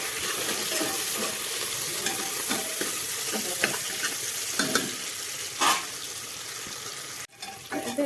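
Onion and tomato masala with garlic and dried red chilli paste and salt fries in a pan, a loud, continuous sizzle broken by stirring scrapes, with a brief clatter and a sudden drop near the end.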